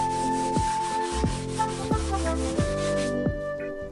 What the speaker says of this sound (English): So I'm sanding off the high spots.